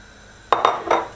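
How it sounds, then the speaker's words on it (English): Bacon drops into a frying pan with a few quick metallic clinks and clatters, close and brief. "Get that in your frying pan"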